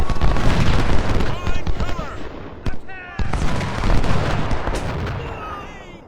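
Ranged musket volleys fired up a hill in the Ultimate General: Civil War battle game, a dense, rolling crackle of loud shots with a brief lull midway, layered with battlefield din.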